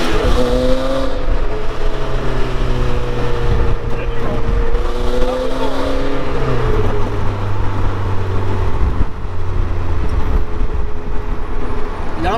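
A Renault Spider fitted with a Clio Williams engine drives along with steady engine harmonics that rise and fall through gear changes, heard loud and close over constant wind rush, with some talk from the occupants.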